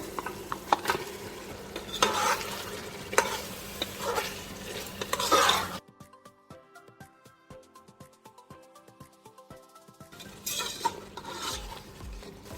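Meat and tomatoes fry and get stirred in a pot for shaljam gosht, a turnip and meat curry, with steady sizzling and scraping utensil clatter that drops away midway, then returns for the final seconds.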